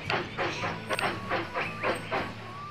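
A steam train in Railroad Tycoon 3 chuffing in a regular rhythm of hissing puffs, about five beats, with a faint whistle-like tone running along underneath.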